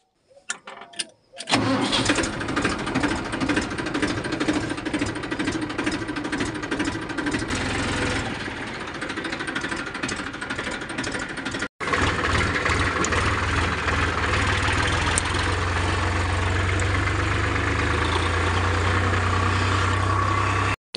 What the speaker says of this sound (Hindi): इस ट्रैक्टर को स्टार्ट करते हैं फिर